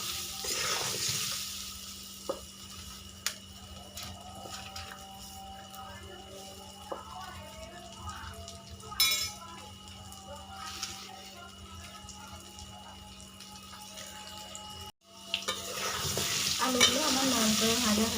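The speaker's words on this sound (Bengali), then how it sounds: "আলুগুলো একটু লাল করে ভেজে নেব" Potatoes frying in oil with turmeric and salt, a steady soft sizzle with occasional stirring scrapes, fairly faint and close, cutting out briefly near the end before returning louder.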